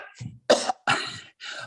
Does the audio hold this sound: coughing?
yes